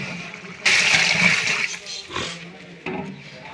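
Water is poured into a large pot of keema pulao that already holds soaked tamarind. A loud rushing pour starts suddenly, holds for about a second, then thins into weaker splashing with a few short surges.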